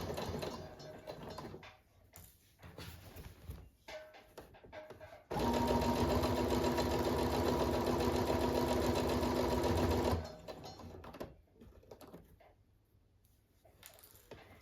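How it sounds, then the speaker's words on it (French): A sewing machine runs a steady burst of about five seconds, topstitching close to the edge of a workwear jacket, framed by quieter handling and fabric rustle before and after; close and clear. "coudre notre piqûre nervure au plus près du bord."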